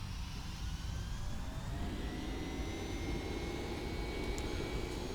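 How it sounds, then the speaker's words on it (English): An aircraft starting a rolling takeoff at Kai Tak, Hong Kong, in the X-Plane 11 simulator: a steady, fairly quiet jet engine roar holds throughout with a faint rising whine. "We're going to about to do a rolling takeoff here."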